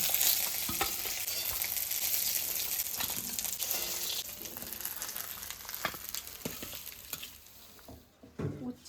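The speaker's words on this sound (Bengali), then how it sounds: "মাছ ভাজা হয়েছে না হ্যাঁ, হ্যাঁ, নামাবো বেশি শক্ত করে ভাজবে না" Fish frying in oil in a pan, a steady close hiss and crackle with stirring scrapes, easing off toward the end with a few louder clinks, no talking.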